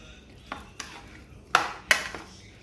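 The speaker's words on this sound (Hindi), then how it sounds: "चलो अब हम इसे मिक्स करेंगे।" A spoon stirs a chicken tender mixture with vinegar in a bowl, producing a few scraping strokes and two sharper clinks against the bowl, close and distinct.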